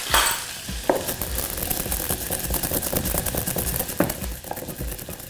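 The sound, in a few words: onions frying in a pan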